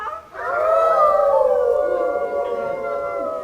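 Several people imitate wolves, howling together in a long, wavering chorus, loud and sustained, gradually fading slightly toward the end.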